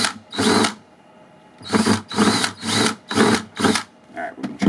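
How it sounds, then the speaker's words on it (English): A power drill bores through a plastic bucket while building a greywater distribution box, heard as repeated short whining bursts of about a second each, close and loud, separated by brief pauses. "plastic bucket drills through very easy, so be really careful drilling this stuff"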